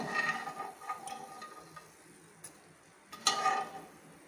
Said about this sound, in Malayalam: ഈ വെളിച്ചെണ്ണയിലിട്ട് നന്നായിട്ട് ഫ്രൈ ചെയ്തെടുക്കുക